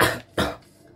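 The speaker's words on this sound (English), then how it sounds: "Have you ever had a cough and you just can't get rid of it" Two sharp, close coughs follow one another about a third of a second apart, each a harsh burst of breath with a short fading tail.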